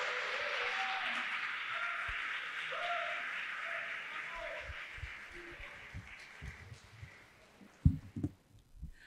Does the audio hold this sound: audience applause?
yes